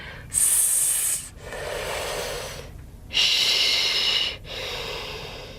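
Hissing fricative breaths alternate with rougher airflow, four drawn-out sustained hisses in a slow sequence, close to the microphone with no talk.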